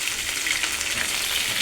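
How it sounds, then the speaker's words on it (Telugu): Onions and curry leaves frying in a pan give a steady, dense sizzle, close and loud, with no voices over it. "కరివేపాకు కూడా ఆనియన్స్తో పాటు వేసేసి ఫ్రై అనేది చేసుకోవాలి"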